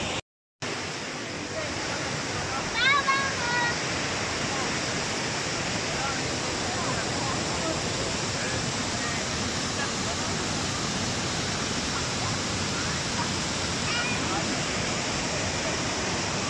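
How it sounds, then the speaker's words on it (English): Loud, steady roar of water pouring down the cascade at Bergpark Wilhelmshöhe's water features, continuous and close, with a brief cut near the start and faint voices now and then. "the roaring water here"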